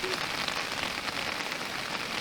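Steady rain falls on a street in an old French town, a dense, even hiss of drops close by with no break.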